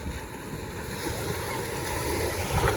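Ocean surf at Lingayen beach, a steady broad wash of waves and wind rushing across the microphone, continuous and fairly loud with no clear breaks.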